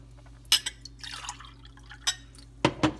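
Water sloshing and splashing as a blender jar is rinsed out while making light cream of broccoli soup, with a few sharp splashes and pours and a steady faint hum underneath.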